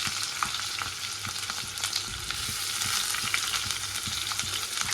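Onions sizzle in hot oil with curry leaves in a home kitchen pan, a steady bright crackle broken by occasional stirring scrapes, close and continuous with no talking.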